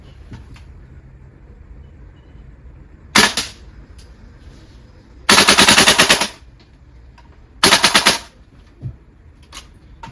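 A VFC V3 gas blowback airsoft rifle fires outdoors in the cold: a short burst, then a longer rapid burst of sharp clacking shots, then another burst, with quiet gaps between them.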